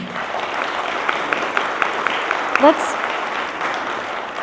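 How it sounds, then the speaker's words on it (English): Applause from the audience at a congressional candidates' town hall in Anchorage, a steady broadband patter of clapping that runs through the whole stretch at moderate level, with a voice speaking over it partway through. "It's really kind of exciting to hear applause, but it does slow things down."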